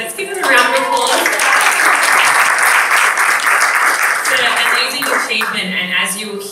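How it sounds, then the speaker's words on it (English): Audience applause fills the room at an award-celebration presentation, a steady dense wash of clapping that holds loud throughout, with voices talking over its start and end. "Let's give it a round of applause."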